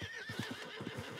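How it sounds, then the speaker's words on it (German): A horse in the video game Red Dead Redemption 2 gives a fairly faint whinny, its shaky rising call blending with a quick run of clip-clopping hooves, without any talk over it. "Kommt unser Pferd?"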